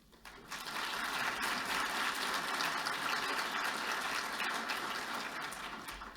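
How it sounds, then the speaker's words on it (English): A round of audience applause at a digital health conference, steady dense clapping rising quickly after a brief quiet start and holding loud throughout. "please join me in one more round of applause"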